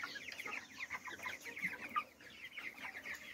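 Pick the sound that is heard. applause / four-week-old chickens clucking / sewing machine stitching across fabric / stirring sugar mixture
four-week-old chickens clucking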